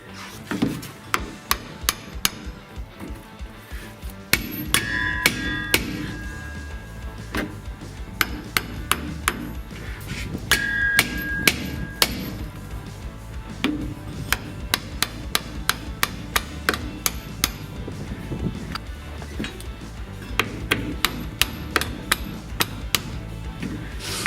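A hammer bangs repeatedly on the rear shackle of a Ford Ranger during a lift kit install, loud sharp metallic strikes in uneven bursts with short pauses, over quiet workshop background.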